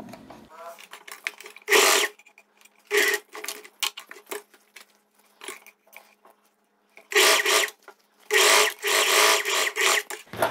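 Domestic sewing machine stitching the armhole of a viscose dress, running in several rapid bursts of a few seconds each separated by pauses, close and fairly loud, with occasional soft handling noises between runs.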